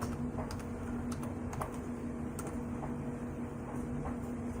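Quick bursts of clicking keys on a computer keyboard as a search is typed, close and fairly crisp over a steady background hum, with no talking.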